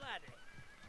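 A horse neighs loudly in a short, descending whinny at the start in the video game Realm Royale, then a low voice murmurs over quiet background noise.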